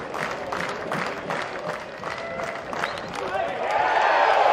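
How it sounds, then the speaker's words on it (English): A college baseball crowd at Louisville hosting Florida State reacts to a missed strike call, a broad murmur and groan swelling across the stands and rising louder near the end, with a commentator talking over it. "You can hear the crowd's reaction"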